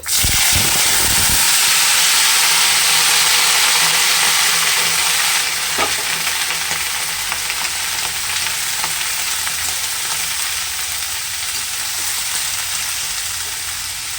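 Loud, steady frying hiss as shredded cabbage and other ingredients for old-style cabbage ghonto go into hot tempering, with a sharp sizzling burst at first, then continuous close sizzle and occasional stirring scrapes, no talk.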